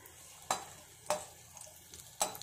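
Raisins with cashews frying in ghee in a kadai for pumpkin payasam: a soft, low sizzle broken by three sharp spoon clinks against the pan, spaced about a second apart.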